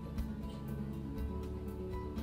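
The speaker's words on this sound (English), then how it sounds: "If the plane sounds like this, it is cutting smoothly." A hand plane cuts smoothly along a wooden workpiece, giving a steady, soft hiss with faint repeating swishes of shaving, continuous and close with no talking.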